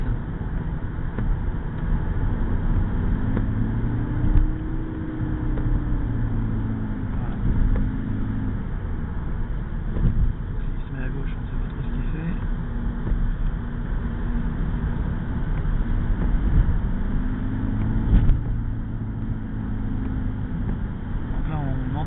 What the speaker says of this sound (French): Le moteur en fait un peu mouliné, c'est dû au variateur en fait.